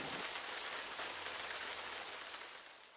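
Steady rain falls in a canyon, a dense even hiss of drops close by with no voices, easing slightly toward the end.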